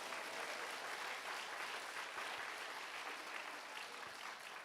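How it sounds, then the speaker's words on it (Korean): Steady applause from a church congregation at a morning prayer-house service, a dense even wash of many hands clapping at once that holds at a constant level throughout. "아니 박수를 치려면 크게 치세요."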